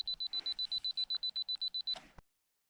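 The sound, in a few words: camera self-timer beeping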